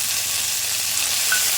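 Ginger-chili paste hits hot oil with cumin seeds in a pan, giving a steady, close, loud sizzle that holds throughout.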